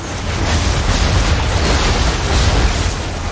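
Ships exploding in Assassin's Creed III naval combat, a continuous loud, dense rumble of booming blasts and crackling debris filling the whole clip.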